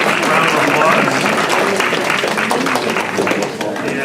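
A crowd at a school senior breakfast applauds, a dense wash of clapping that holds steady and then eases slightly, with voices mixed into the crowd noise.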